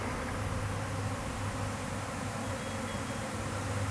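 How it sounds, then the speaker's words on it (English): A honeybee swarm pouring out of its hive into the air, a dense, continuous buzzing hum from many bees close around the microphone, steady and unbroken with no voices. "I can't believe how many bees are in the air right now."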